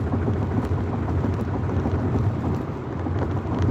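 An Emove Cruiser V2 electric scooter rolls over a rough road surface, making a constant loud, broadband rumble and buzz close to the microphone, with wind noise mixed in and no pauses.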